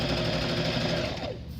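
A sewing machine runs a fast, steady stitch, sewing bias binding through three layers of fabric along a seam. It is close and loud, then slows and stops just before the end.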